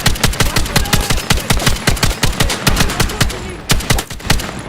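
Machine gun fire in the war shooter Battlefield 6, loud, close and rapid, a long unbroken stream of evenly spaced shots that eases slightly just before the end.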